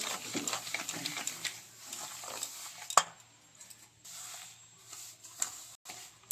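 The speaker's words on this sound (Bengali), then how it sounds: "সুজিটা দিয়ে আমি ভালো করে মিক্স করে নিচ্ছি" Semolina being mixed with sour yogurt and water in a bowl for steamed semolina pitha gives soft, uneven stirring and scraping, with a sharper clink near three seconds.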